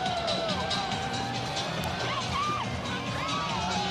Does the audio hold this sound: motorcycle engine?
no